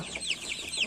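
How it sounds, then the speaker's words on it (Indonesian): KUB chickens, an Indonesian native breed, cluck softly in quick, repeated calls, several birds close by, with no talk. "Ini ayam KUB ya."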